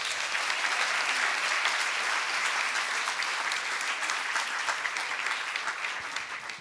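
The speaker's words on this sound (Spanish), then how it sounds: "tenemos que darnos un aplauso muy grande todos" Seminar attendees at a religion panel give themselves a big hand, a loud, even wash of many hands clapping that holds steady throughout and eases off slightly toward the end.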